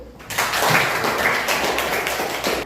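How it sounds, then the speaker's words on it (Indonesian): Audience applause after a group presentation in a classroom, a short burst of brisk clapping from many hands, loud and close, fading slightly at the end. "coba kita beri applause dulu"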